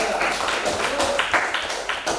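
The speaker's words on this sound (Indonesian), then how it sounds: "tepuk tangan dong buat kelompok 3" A small group of people applaud group 3 after a classroom presentation, giving a few seconds of scattered, uneven hand claps at moderate volume over room noise.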